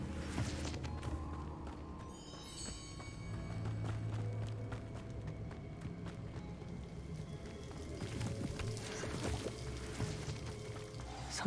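A waterfall in the Hogwarts Legacy video game rushes in a steady broadband roar that holds for the whole stretch, with faint game ambience and a short chime layered over it.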